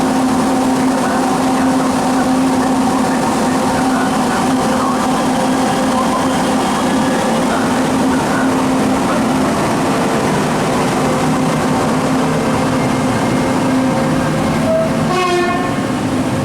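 A train rolls in at a station platform with a loud, steady rumble and rail noise, a sustained horn-like tone, and a rising chirp of brake squeal near the end.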